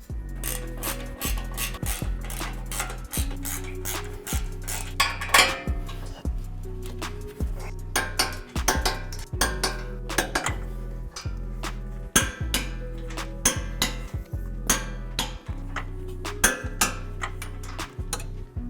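Bumper bolts on a Toyota 4Runner being tightened during a Warn semi-hidden winch mount bumper install, giving a steady series of sharp metallic clicks and taps in a quick ratcheting rhythm, close and fairly quiet.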